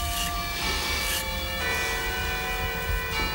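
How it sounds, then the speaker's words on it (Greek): A church bell rings on a saints' feast day, with sustained overlapping metallic tones hanging continuously over a busy ambient background, moderately loud throughout. "Καμπάνα είναι."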